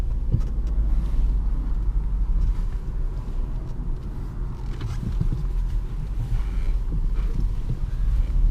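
A Jaguar XF 5.0 V8 S rolls along the road, its engine a low, steady rumble inside the cabin with continuous road and wind noise throughout.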